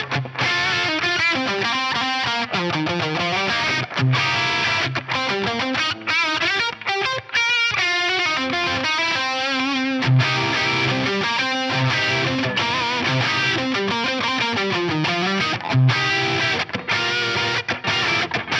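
Electric guitar played on a doubleneck with heavy distortion and delay, sustained melodic lines and repeating echoes ringing out continuously, loud and upfront with no talking.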